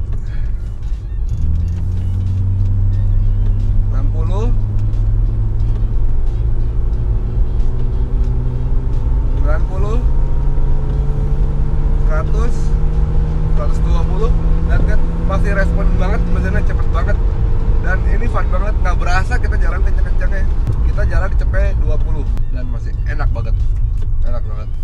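A retro Mercedes-Benz 300E drives on a straight test track, its engine note rising steadily as it accelerates and holding a strong, close drone throughout, with people talking inside the car.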